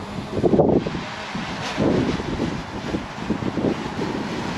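Gusty wind buffets the microphone in low rumbling bursts beside a koi pond in Telford, rising and falling several times with a faint rustle in the background.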